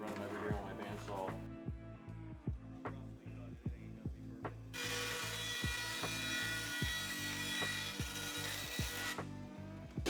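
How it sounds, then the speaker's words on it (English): Bandsaw cutting thin skateboard veneer sheets in a workshop, a steady motor hum with a regular series of rhythmic ticks, and a louder, brighter cutting rasp for several seconds in the middle; faint talk nearby. "so I usually run them over here on my bandsaw"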